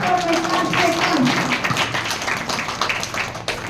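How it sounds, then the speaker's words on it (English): An audience at a school prize distribution applauds a student, a brief burst of dense clapping mixed with talking, tapering off over a few seconds. "Give a big round of applause for my classmate."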